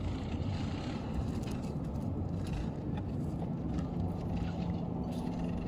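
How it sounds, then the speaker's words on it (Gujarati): A tractor engine turning in a field gives a steady, fairly faint low rumble that stays even throughout, with no talking. "જો ટ્રેક્ટર વણાક વળી જશે હમણાં"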